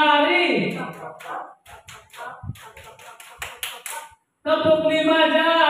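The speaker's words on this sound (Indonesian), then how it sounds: "Tepuk empat jari." Four-finger clapping at a primary school gathering: a short series of sharp taps between stretches of a voice, fairly close and moderately loud, with talk before and after.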